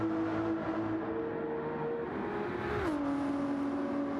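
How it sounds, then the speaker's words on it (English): A race car in a racing game accelerates hard out of a turn onto the backstretch. The engine note holds a steady whine, then drops sharply on an upshift and climbs again, loud and continuous. "Watching these guys just rocket out of that turn onto this backstretch is always fun to see"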